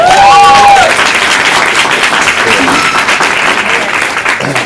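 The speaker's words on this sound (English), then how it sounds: "By a round of applause." An audience at an unplugged guest-artist performance breaks into loud, sustained applause, dense clapping that fades slightly over several seconds with a voice briefly heard at the start.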